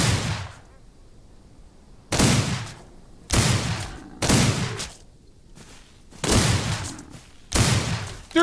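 Loud revolver shots from the Western game Outlaws of the Old West ring out one at a time, six sharp blasts with short decaying tails and quiet gaps between them.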